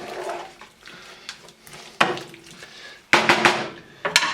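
Kimchi paste with ginger and garlic is stirred in a pan over medium heat, with scraping, clinking utensil strikes against the pan and a few sharper knocks, close and intermittent.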